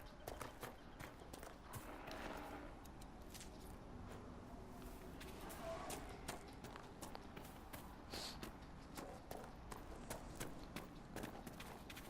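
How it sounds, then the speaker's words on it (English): Horses walking with steady clip-clop hoofbeats in the Dragon Age: Inquisition video game, a continuous moderate rhythm of hooves amid ambient game sounds, with no talking. "Oh, horses."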